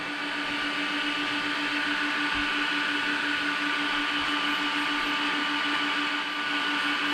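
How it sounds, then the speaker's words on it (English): Twin cooling fans on an RC off-road car's ESC run on a workbench, giving a steady high whine with a constant tonal hum, close and even throughout. "The two V1 game changer fans are working great."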